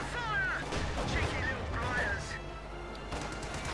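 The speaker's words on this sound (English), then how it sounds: "Quick bit of shooting there from the Cromwell." Cromwell tank gunfire in the Company of Heroes 2 strategy game: booming shots and distant battle rumble under steady game commentary, with chirpy unit sound effects.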